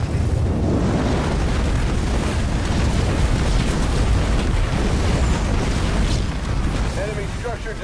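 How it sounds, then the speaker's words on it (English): A structure blowing apart in the real-time strategy game Halo Wars 2, a sustained loud rumbling explosion with crackling debris, mixed with a game voice announcing events. "Enemy structure destroyed."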